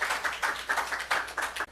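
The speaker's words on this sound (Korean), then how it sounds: "우리 하나님께 박수 올려드려요." A church congregation claps together in a quick, steady rhythm of sharp bursts, fairly close and loud, before stopping abruptly.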